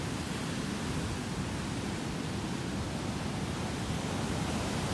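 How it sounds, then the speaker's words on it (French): Large surf waves break on a Colombian surf beach, heard as a continuous, broad roaring wash with no distinct individual crashes. "Elles sont énormes leurs vagues."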